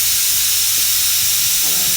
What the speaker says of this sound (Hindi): एक सीटी और इसमें आ गई।